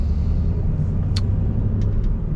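A manual car slows to a stop and downshifts, with a loud steady low engine and road rumble throughout and a few brief higher clicks and squeaks over it.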